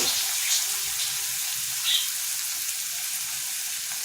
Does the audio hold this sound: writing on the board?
no